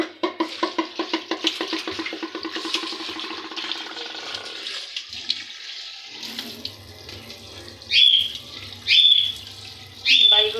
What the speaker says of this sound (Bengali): এখন ধুমো, ধুয়ে টুয়ে গুছাই রেখে দিমু